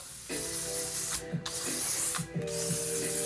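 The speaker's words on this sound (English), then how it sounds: "So I'm just gonna lightly mist it everywhere." Hairspray hisses out in a long, steady mist, broken by two brief pauses, with a faint mechanical hum underneath.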